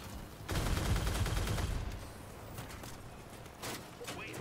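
Vehicle gunfire rattles in the Crossout video game: a dense burst of automatic fire for over a second, then scattered fainter shots trailing off.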